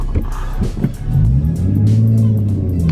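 BMW E90 car engine pulling away from a stop, a steady rising drone that holds strong and near after a moment of rougher low rumble.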